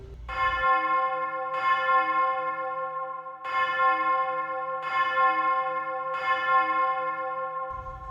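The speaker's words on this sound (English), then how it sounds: "The bell strikes 6 times." A deep church-style bell strikes six times at a slow, even pace, each rich ringing tone swelling and overlapping the fading hum of the one before, loud and alone with no voices.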